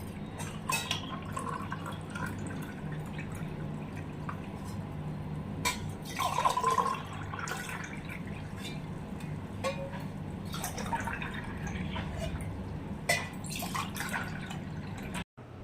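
Juice being strained at home, with faint intermittent drips and trickles of liquid falling into a glass over a quiet room hum, close and sparse, without talking.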